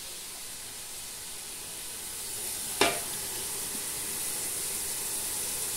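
Chopped onion lands in a hot pan of chopped meat and garlic with a sudden splash, then a steady, fairly close sizzle and hiss of frying continues throughout.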